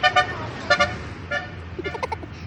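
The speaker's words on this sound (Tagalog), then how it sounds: "Busina ng busina kahit hindi naman traffic." Car horns honk in several short toots, a pair at first, then single beeps and a higher-pitched cluster, over low traffic rumble.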